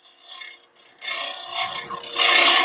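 A dull bowl gouge cutting face-grain wood on a lathe, giving a rough, rasping scrape in uneven strokes that swell and fade, close by and fairly quiet, with no talking.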